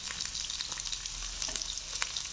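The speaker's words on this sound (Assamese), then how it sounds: "এইখিনি অকণমান চটে কৰি ল'ম মই ইয়াতে" Garlic, ginger and green chili sautéing in a hot pan for a paneer recipe, giving a steady, close sizzle and crackle with small pops throughout.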